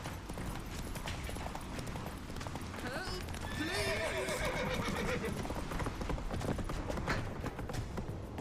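Roach, the horse in The Witcher 3 video game, gallops with rhythmic hoof clip-clops and lets out a clear neigh midway, over a dense game soundscape with speech.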